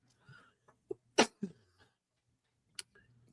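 A single sharp sneeze bursts out close by, with a few faint breaths and small mouth sounds before it and a brief click afterward, in an otherwise quiet room.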